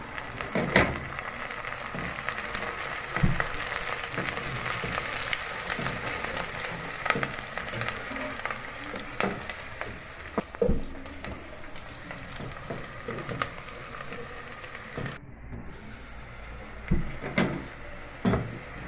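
Onions frying gently in a covered pan for a Kenyan kienyeji greens dish, a steady soft sizzle with scattered small pops and occasional clatter of the lid or utensils, fairly quiet and without talk.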